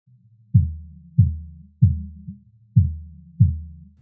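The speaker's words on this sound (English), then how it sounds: "you'll just hear the punchy bit of the kick" Filtered kick drum reduced to its punchy low transient, five tight thumps in a steady rhythm with a quick decay after each hit and one faint extra blip between them, alone and fairly loud.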